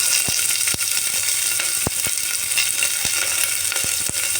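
Sliced onion and garlic sizzle in hot oil in a pan, a steady close frying hiss broken by sharp clicks of a spoon stirring at irregular intervals.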